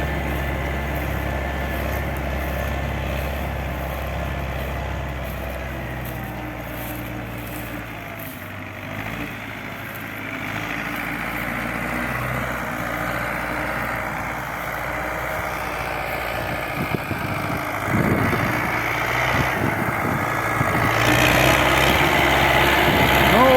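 An MTZ-80 tractor's diesel engine running steadily, a continuous low rumble with a faint rise toward the end, heard alone without talking.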